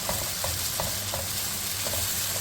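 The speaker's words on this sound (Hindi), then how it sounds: "इसकी थोड़ी भुनाई करेंगे ताकि इसका कच्चापन दूर हो जाए" Ginger garlic paste fries in a pan with a constant sizzle while a spoon scrapes and stirs in a regular rhythm, close up, with no talking.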